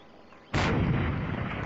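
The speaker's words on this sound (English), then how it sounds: "Grenade right on him." A grenade explodes in the video game Unturned: one sudden, loud, close blast breaks a quiet stretch, and its heavy roar stays up and rumbles without fading.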